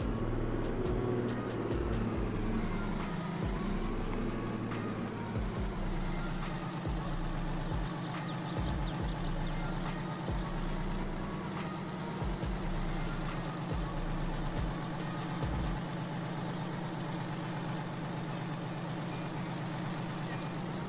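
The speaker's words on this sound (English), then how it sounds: "I'm gonna go dump my other truck" A truck in Farming Simulator 22 drives with a steady low engine drone and rumble, its pitch dropping as it settles, with sharp clicks and short ticks scattered throughout, continuous and close with no talk.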